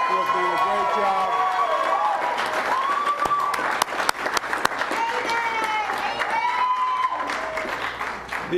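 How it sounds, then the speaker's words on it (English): At a press conference on the capture of an escaped inmate, a crowd applauds law enforcement with steady, sustained clapping, and voices and tonal sounds mix in throughout. "let's give a big round of applause to the men and women of law enforcement who have done a great job"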